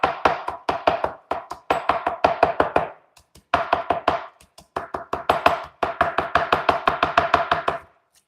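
Rapid, even knife chopping of vegetables sliced very thin for a lo mein garnish, close and crisp strokes in two long runs with a short pause between, no talking.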